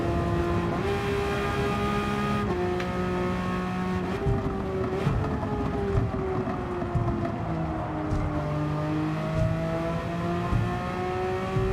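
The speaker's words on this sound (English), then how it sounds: "Let's let this car through." Race car engines in the Gran Turismo 7 racing game, a steady droning whine that rises and falls as cars pass and shift, with no talk over it.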